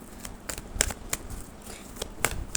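Tarot cards are shuffled by hand in quick, crisp riffling bursts, several close flicks and snaps spread unevenly over a couple of seconds, with no talk.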